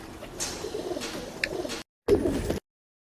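Pigeons at a bird sale in Bangalore coo softly and steadily at close range, a continuous murmuring call that pauses briefly and then resumes.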